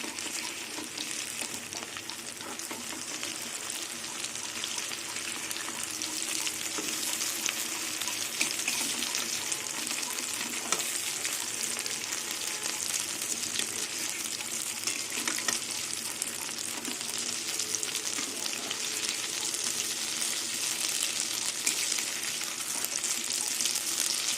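Flipped Malabar spinach leaf and pea lentil fritters keep frying in oil, a continuous steady sizzle with faint crackles and occasional stirring clinks throughout, no talking.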